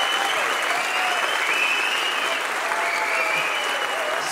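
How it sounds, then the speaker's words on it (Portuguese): Audience at a live show applauding steadily, a dense wash of clapping hands that stays loud and even throughout with no talking on top. "Salve de palmas pra vocês, gente."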